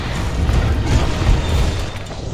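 A slinger bomb goes off in Monster Hunter World while hunting Pink Rathian, a loud, sustained low boom with crashing debris that fills the whole stretch without talk.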